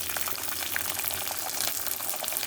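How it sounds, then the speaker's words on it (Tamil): Onions frying in a pan for vegetable rice, a steady broadband crackle and hiss of oil, moderately loud and close, continuous with no talking. "இதில் முதல்ல வெங்காயத்தை போடுங்க."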